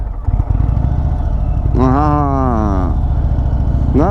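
Indian Springfield Dark Horse motorcycle engine rumbling close by during a slow, tight U-turn, a deep steady idle that swells into a loud revving rise midway, then settles before another brief rev.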